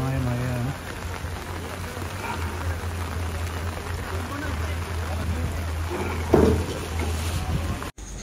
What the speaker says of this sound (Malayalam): ശക്തമായ മഴയാണ്.